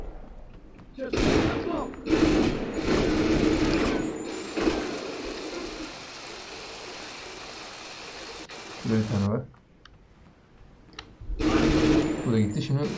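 Rapid bursts of gunfire in the GTA Vice City 'Fall of Vice City' mod crackle loudly in dense stretches, broken by short pauses and game sounds, with a louder burst near the end.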